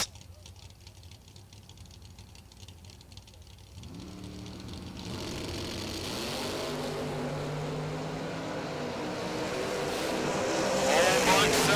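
Ford Mustang drag race cars launching down the strip at the IHRA World Finals, a low rumble that swells into a loud, rising engine roar with shifting tones as they speed away.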